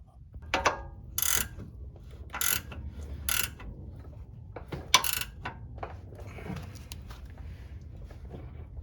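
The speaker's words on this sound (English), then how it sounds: "I'm gonna tighten the back bolts here, and then the ones from underneath right here" Ratchet wrench tightening front lower control arm suspension bolts on a 2012 Audi Q5 2.0T. Several short, close ratcheting bursts come in irregular spurts between quieter handling clicks, with no talk.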